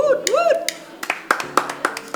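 A few scattered hand claps ring out in a small studio chat show setting, sharp isolated slaps mixed with voices talking and cheering.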